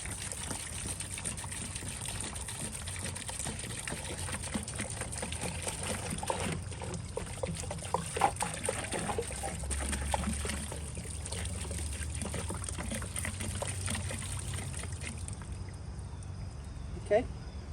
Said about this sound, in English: Now I'm just going to fill the rest of this up with antifreeze.